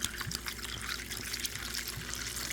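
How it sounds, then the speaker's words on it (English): Orange ginger beer is poured into a rum cocktail, a steady close trickle and fizzing splash of liquid running continuously for a couple of seconds, with no talking. "we're going to top our cocktail with the orange ginger beer"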